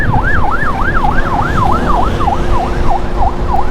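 A loud, close ambulance siren wailing, sweeping rapidly up and down over and over, with engine rumble beneath it, heard from a Suzuki Smash 115R motorcycle pulling aside.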